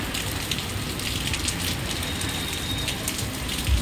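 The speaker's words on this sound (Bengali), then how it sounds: "প্রচুর জোরে বৃষ্টি হচ্ছে।" Heavy torrential rain pours over Kharagpur as a dense, steady hiss of drops that stays loud and even throughout, with no voices.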